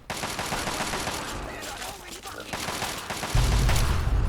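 Gunfire rattles in Fallout 3 in loud, rapid bursts of shots, broken by a brief lull before a heavy, booming stretch of firing near the end.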